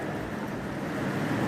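Water poured into a beaker during a school biology practical, a steady continuous splashing wash that runs evenly and fairly loud from start to finish, with no talking.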